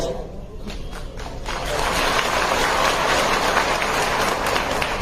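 Sustained audience applause at a live political speech in India, building from a sparse patter into a loud, dense wash of clapping that holds steady to the end, with faint voices mixed in underneath.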